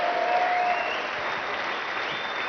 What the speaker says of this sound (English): let's have a big round of applause for both sides